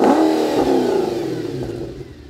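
Audi RS4 engine revving with the exhaust valves open, loud and close, a sharp blip at the start that settles into a throaty, gradually fading roar, no voices.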